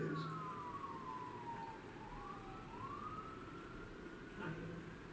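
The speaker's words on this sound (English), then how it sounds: "we would not have had sirens" A siren wails in long rising and falling sweeps, moderately distant, over a steady rumble of traffic noise.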